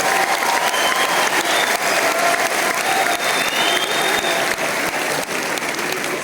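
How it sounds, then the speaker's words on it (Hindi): A hall audience claps loudly and continuously for athletes, including shooters and a 4x400 relay team, at a National Sports Day event, a dense, steady roar of hands that eases slightly toward the end. "एक बार जोरदार तालियां सबके लिए।"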